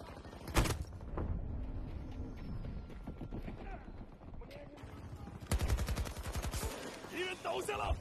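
Rifle gunfire in the Battlefield 2042 video game, with sharp single shots and then a fast burst of rapid fire near the end over a busy game soundscape, with a voice present.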